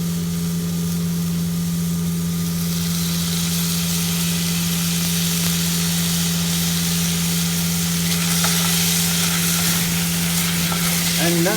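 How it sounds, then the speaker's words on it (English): Tomato puree sizzling and frying in a pan during moist-method cooking, a steady close crackle that starts soft and grows brighter and busier over several seconds, with a low constant hum beneath. "Next, I'll add some tomato puree to this."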